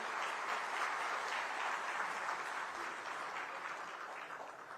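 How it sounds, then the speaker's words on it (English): An audience at a joint business session in Odisha gives sustained applause for the Pravasi Bharatiyas, many hands clapping in a thick, even wash that tapers gradually toward the end. "an even more energetic round of applause for our friends who have come from all parts of the world, the Pravasi Bharatiyas"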